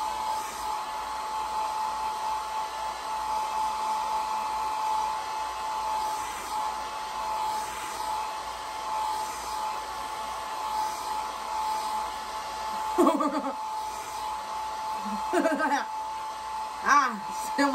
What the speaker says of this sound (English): still myself with the blow dryer.